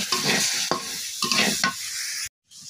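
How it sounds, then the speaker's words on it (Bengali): Potatoes sauté with spices in a pan, with bursts of scraping stirring over a steady sizzle, nearby and loud, before cutting to brief silence and a fainter sizzle. "দিয়ে ভালো করে মশলার সাথে কিছুক্ষণ কষিয়ে নিব।"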